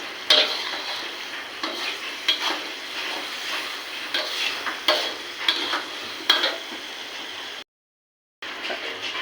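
Whole cumin and other spices frying in a pan for a jackfruit curry, stirred steadily: a continuous soft sizzle under repeated scraping strokes, with a brief silent gap near the end.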